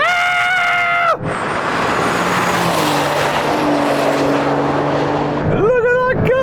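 A Porsche 911 Turbo S and a Carrera GTS accelerate in a drag race. One engine revs up loudly and cuts off, broad roaring engine noise follows, and a second engine note climbs sharply near the end.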